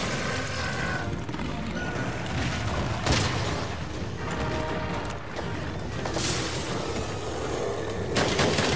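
Bowgun fire in Monster Hunter World, aimed at a monster's face in the Rotten Vale: a dense, continuous barrage of loud gunshot-like blasts and booms with a few sharper bursts, mixed with game effects and no talking.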